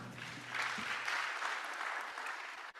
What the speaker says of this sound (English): A round of applause to my panel.